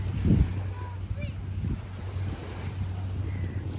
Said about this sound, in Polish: Szum morza.